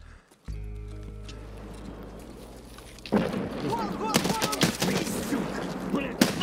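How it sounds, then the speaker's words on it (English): Bursts of rapid gunfire crackle in a loud, chaotic Escape from Tarkov PvE scene, following a sustained low tone. "That's like broken gunfire."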